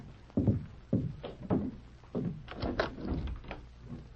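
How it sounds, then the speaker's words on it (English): Old-time radio sound effect of a door opening followed by several heavy footsteps, a series of distinct thumps spaced about half a second apart, close and clear. "The door. I'll see who it is."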